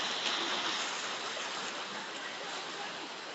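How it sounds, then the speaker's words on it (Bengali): Fast water gushes out of a narrow lane in a steady, close, loud broadband rush that runs unbroken throughout. "সামান্য এত সরু যে গলি থেকে জলটা বেড়াচ্ছে, এর স্পিডটা অনেক"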